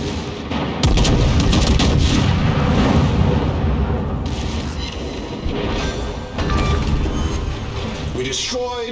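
Warship main battery fire in World of Warships, a loud sustained barrage of booming naval artillery with rumbling blasts, a brief lull mid-way and renewed firing near the end, from a German Schliffen battleship in a ranked battle.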